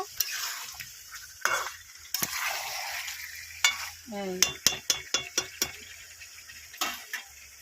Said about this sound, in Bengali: আর এই ডিম দিয়ে দিচ্ছি, ডিম কষা আলু কষা দেওয়া হলো।